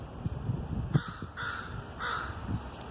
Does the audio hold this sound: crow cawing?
yes